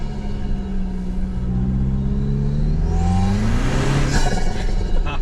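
A hybrid Toyota Tacoma pickup truck engine revs hard, its deep intake roar climbing in pitch and loudness over a few seconds, close and loud.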